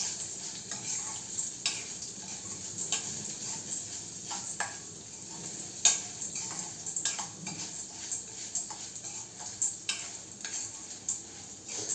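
Black gram lentils dry-roast in a pan while being stirred, giving faint scraping and light crackling with occasional soft taps of the spoon. A high steady hum runs in the background.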